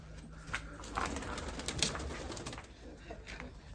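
Crested, shaggy-footed domestic pigeons coo softly in a loft, low murmuring calls under faint background rustle, fairly quiet and steady throughout.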